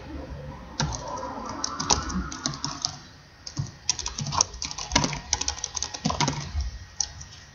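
HTML code is typed on a computer keyboard in quick, close bursts of clicky keystrokes, with a short pause midway before the rapid tapping resumes.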